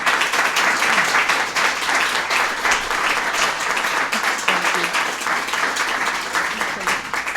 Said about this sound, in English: I get embarrassed when people stand up and clap for me